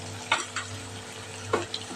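Spices such as turmeric, coriander-cumin powder and red chili powder being stirred into hot oil in a pan, soft sizzling with a few distinct spoon scrapes.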